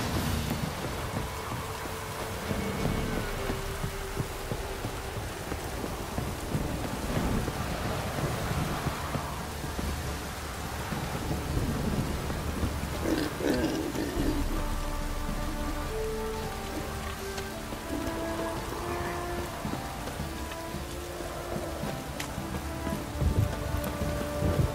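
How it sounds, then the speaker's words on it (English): Steady rain falls in The Witcher 3: Wild Hunt, a continuous patter on surfaces with faint wind, alone for the whole stretch with no talk. "Stop raining, my arse will rot off."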